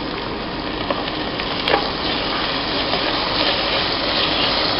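Crushed shallots fry in hot oil for a Kerala-style chicken thoran, giving a loud, dense, continuous sizzle with a brief clink partway through.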